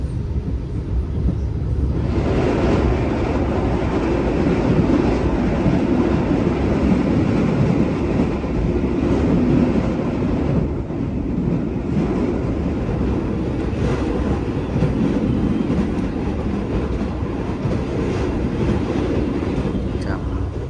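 Steady, loud rumble of a new Indonesian passenger train running on rails, heard from inside the carriage with continuous track noise and faint clatter, while people talk softly underneath.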